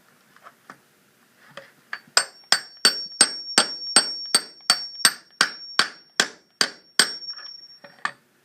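A hammer drives rivets to join the ends of shoes. About fifteen ringing metallic strikes land in an even, steady rhythm, each one decaying quickly and sounding close and clear, with a few softer taps before and after.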